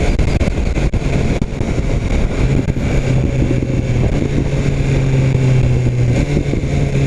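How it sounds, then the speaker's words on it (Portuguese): Loud, close engine roar from a BMW S1000 R motorcycle pulling hard on a test ride, with quick-shifter upshifts and no clutch, the revs climbing steadily through several seconds of continuous acceleration. "Quick shifter pra cima, acelerando."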